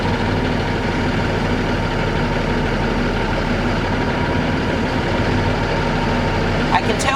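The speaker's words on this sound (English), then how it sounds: "I can tell by the engine surge that my trailer brake is also holding." A truck engine idles steadily up close as the clutch is released against a holding trailer brake during an air brake test, a deep constant rumble with only a slight surge near the end.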